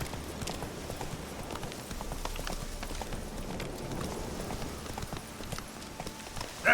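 Roach, the horse in the video game Witcher 3, gallops with rapid, rhythmic hoofbeats close by, steady and continuous over a faint background.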